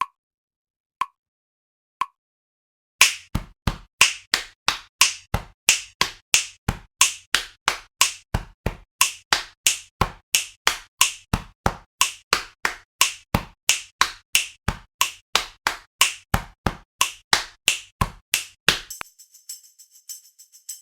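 Crisp hand claps ring out alone, a few spaced single claps giving way to a long steady run of rhythmic clapping patterns from a clapping song, close and clear with no voices.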